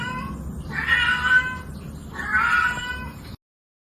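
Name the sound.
cat meowing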